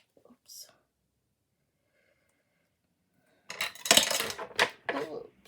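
A pair of scissors drops and clatters onto a hard surface nearby, a quick run of bright metallic clanks after a few seconds of near silence.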